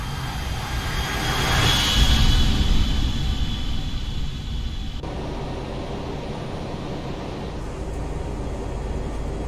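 A ToLiss A319 airliner in X-Plane makes a flyby in snowy winter storm weather near Chicago O'Hare, a loud, broad jet roar that swells to a peak early and then holds as a steady rushing drone.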